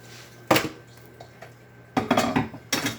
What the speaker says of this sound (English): So now I'm gonna add in my tomatoes.